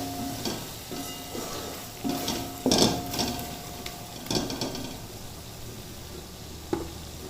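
Green chilies being stirred into a simmering mushroom korma gravy in a pan, with soft scraping strokes and a few sharper clinks of the spoon over a steady low sizzle.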